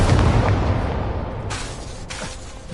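The Incendio fire spell is cast in Hogwarts Legacy, a loud booming burst with a rushing fiery roar that tails off, followed by two shorter whooshing bursts of effect.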